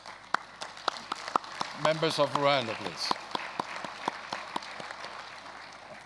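Scattered, sparse hand claps tick steadily from an assembly audience at the Inter-Parliamentary Union gathering in Kigali, Rwanda, while someone speaks over them partway through.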